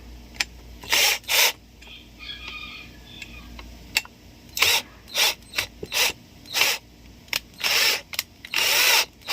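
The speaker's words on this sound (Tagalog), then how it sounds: "Tsaka nyo higpitan ulit yung screw." Screw being tightened during assembly of a slingshot, heard as repeated short bursts of ratcheting, mechanical turning with brief pauses between strokes, fairly close and clear with no talking.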